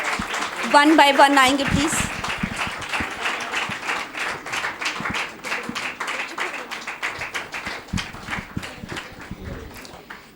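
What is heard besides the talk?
audience applause at a certificate ceremony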